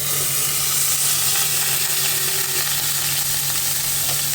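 Stuffed bitter gourds cook under a lid in a pan over medium heat, sending out a loud, continuous sizzle and hiss with a steady low hum beneath it and no voices.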